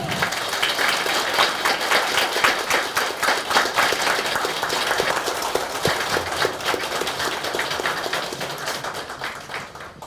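Loud, sustained applause from a crowd welcoming a National Assembly preliminary candidate at a campaign gathering, thick rapid clapping that holds steady and tapers slightly at the end.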